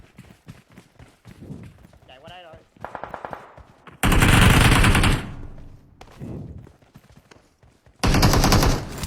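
Gunfire in a video game while shooting at an enemy overhead: two loud sustained bursts of rapid automatic fire separated by footsteps and quieter action, with players talking throughout.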